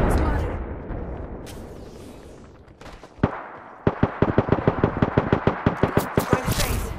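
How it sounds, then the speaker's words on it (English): Rapid gunfire in the Apex Legends video game, with a loud burst of evenly spaced automatic shots rattling close by after scattered earlier bangs and a rumbling opening. "Contact with hostile. Getting shot at."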